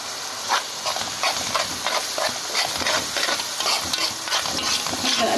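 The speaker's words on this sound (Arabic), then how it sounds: "هفضل اقلب كويس كده لحد ما تدبل معايا" Shredded cabbage and spices are stirred in a pot over heat, giving a steady hiss and sizzle with soft rhythmic scraping and rustling, close and moderate in volume, no talking.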